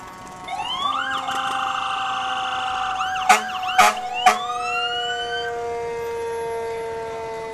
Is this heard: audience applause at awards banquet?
no